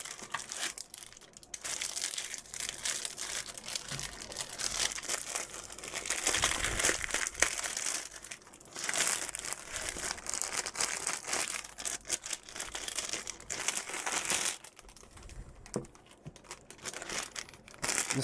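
A wrist rest is pulled out of a thin, cheap-feeling plastic bag while unboxing an 8BitDo Sega Saturn retro keyboard, giving sustained close crinkling and rustling with brief pauses and no talk.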